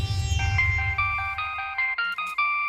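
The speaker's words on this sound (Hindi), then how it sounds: "हाँ जी, बॉस का फोन है। उठाओ।" A phone ringtone for an incoming call in a home kitchen, a repeating electronic melody of short bright tones chiming out clearly after a brief stretch of low background rumble.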